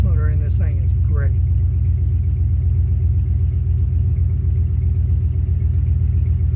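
A Land Master engine runs steadily after starting, a loud, continuous low rumble with an even idle throb. A brief voice is heard near the start, then the engine continues alone.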